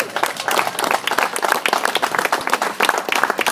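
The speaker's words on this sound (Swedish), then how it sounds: "en applåd för dem." A crowd at a Melges 24 sailing regatta prize giving applauds, brisk close clapping with a lively, uneven rhythm throughout.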